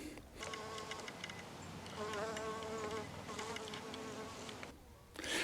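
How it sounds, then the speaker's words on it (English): Honey bees buzz around a hive after an ice storm, a dense, close hum of many insects coming and going, with individual bees droning loudly past and the buzzing swelling and fading in waves. "There's some bees coming and going"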